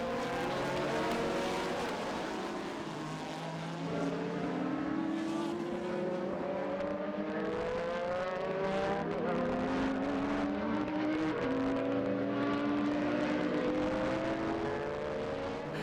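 Le Mans Series race cars battle on track, their engines rising and falling through repeated upshifts in a continuous loud, close drone with overlapping engine notes.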